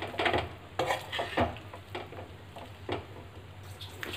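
A spoon stirs and scrapes through chili paratha filling ingredients in a bowl without heat, making close clinks and swishing strokes in an irregular rhythm, several sharp taps early on, with no voice.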